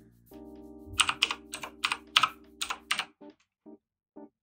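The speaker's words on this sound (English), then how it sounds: "And now we will type" Typing a command on a computer keyboard, close crisp keystrokes in a quick run of about eight presses and then a few slower taps, over a faint steady hum.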